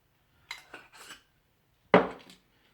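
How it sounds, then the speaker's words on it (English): Quick shake of a lidded container holding oyster mushrooms and pepper, heard as a few rattling bursts and then one louder shake, with no talking. "Top on again. Give it a quick shake."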